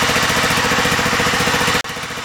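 A warm John Deere STX38 lawn tractor engine idles steadily with a rhythmic, throbbing chug, close and loud, briefly dipping near the end before resuming.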